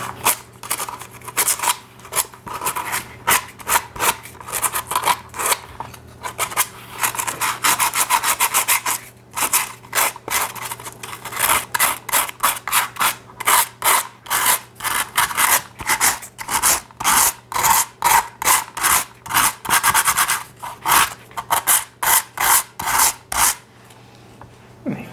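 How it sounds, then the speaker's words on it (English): Sandpaper scraping over a dino mask, close and steady, with long continuous rasping that breaks into rapid rhythmic back-and-forth strokes, no voice. "The sandpaper is pretty durable."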